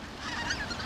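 Greater white-fronted geese calling over the Cheorwon plain in Gangwon, a stopover on migration near Togyo Reservoir, a dense overlapping chorus of honks from a large flock, steady and fairly loud with no gaps.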